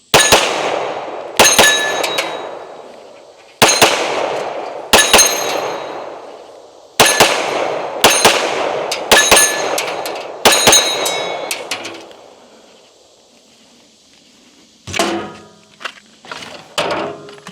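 A Springfield XD Mod 3 pistol fires loud, sharp shots at close range, mostly in quick pairs separated by pauses of a second or two, with metallic ringing after each. Fainter clatter and knocks follow near the end.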